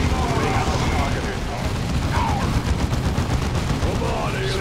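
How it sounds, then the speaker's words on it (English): Heavy bolter fire in the Dawn of War 2 video game: a dense, continuous rattle of rapid gunfire and blasts, loud and unbroken throughout. "Our heavy bolters are deadly, but they take time to set up and have a limited field of fire."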